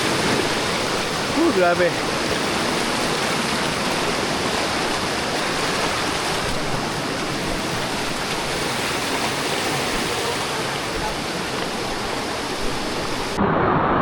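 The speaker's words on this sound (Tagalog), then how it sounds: "Sobrang lakas ng volume guys ng tubig." Strong floodwater rushes past rocks after a typhoon in Occidental Mindoro, a loud, continuous broadband roar that fills the whole clip, with a brief voice heard over it.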